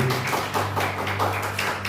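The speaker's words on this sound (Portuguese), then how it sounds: "Palmas para Jesus, irmãozinho. Palmas para ele." A church congregation claps in a steady run of sharp hand claps over a sustained musical drone during a worship service.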